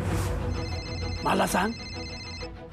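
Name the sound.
phone ringing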